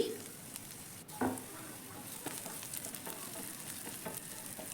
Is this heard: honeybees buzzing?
no